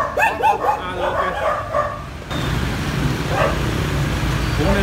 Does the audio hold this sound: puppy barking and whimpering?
yes